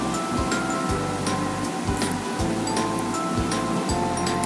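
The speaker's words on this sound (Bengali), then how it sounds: "এবার মাছগুলো সেদ্ধ হবে ভালো করে।" Fish belly pieces boil in a pot of water seasoned with salt and turmeric, a close, continuous rolling bubble and hiss that stays steady throughout.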